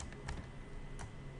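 Soft, quick keystrokes on a computer keyboard while spreadsheet macro code is typed, with a few distinct clicks standing out over a low, steady background hum.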